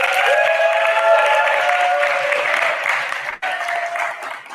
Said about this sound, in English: Please, huge applause to him.